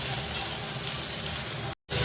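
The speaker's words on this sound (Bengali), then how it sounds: "ভালো করে কষানো হয়ে গেছে।" Steady sizzling of vegetables frying in a pan, with stirring scrapes throughout and a brief cut near the end.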